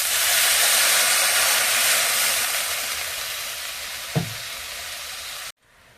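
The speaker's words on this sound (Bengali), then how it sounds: "মাছের ঝোলটা ফুটে উঠেছে," Fish curry comes to a boil in a pot, making a steady hissing, bubbling roar that slowly fades, with a single knock partway through before the sound cuts off abruptly.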